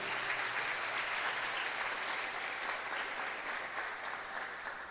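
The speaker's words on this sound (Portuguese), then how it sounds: "Você pode aplaudir o nome do Senhor?" A church congregation applauds steadily after a prayer, dense clapping filling the room at an even level throughout with no pauses.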